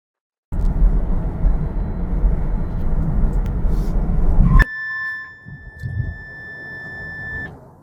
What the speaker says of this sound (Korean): 조건이 충족이 되면 알람으로 알려줍니다